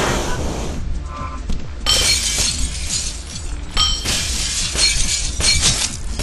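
Glass shatters in the physics game Happy Wheels, a loud crash followed by a second burst of breaking around the two-second mark, with crackling shards and bright clinks continuing throughout and no talking.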